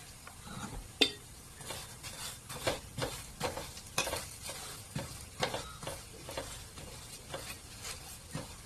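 Oiled flatbread fries in a pan, a steady close sizzle broken by repeated scraping and pressing strokes of a spatula, with a sharp clink near the start.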